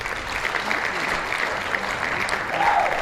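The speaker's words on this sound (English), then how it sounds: "Let's give her a round of applause." Studio audience and hosts clap for a podcast guest, a flower shop owner, in a steady round of applause that holds level with a slight swell near the end, with faint voices mixed underneath.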